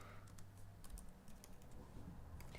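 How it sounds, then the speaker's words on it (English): Code being typed on a computer keyboard, with quick, irregular clusters of quiet key clicks close by and no voices. "So let's go ahead and type that in."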